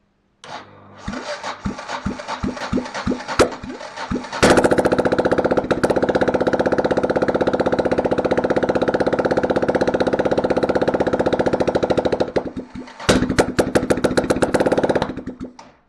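1993 Yamaha XT 600 E motorcycle engine with a bad oil leak: several separate starting pops and cranks, then a steady loud rattling idle for about eight seconds that cuts off briefly before a burst of sharp rapid revving.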